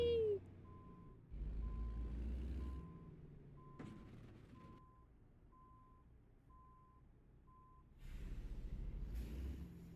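Steady reversing beeps from a truck backing up in a truck simulator game, evenly spaced pings running for several seconds over a low diesel engine rumble that swells at the start and end.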